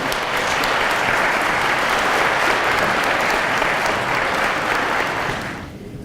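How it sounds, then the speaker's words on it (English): Sustained applause from an audience at a community fire commemoration event, steady dense clapping for about five seconds before tapering off near the end. "Once again, let's give them a big round of applause"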